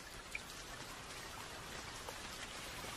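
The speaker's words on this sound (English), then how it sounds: "as a steady rain fell in the Sierra Nevada" Steady rain falling in the Sierra Nevada, a soft, even hiss of drops with faint scattered ticks, heard quietly and without any voices.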